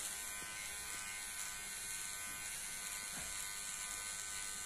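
An electric razor buzzes steadily through a beard, worked slowly downward by a tetraplegic man using an adaptive grip, a continuous close hum with no talking.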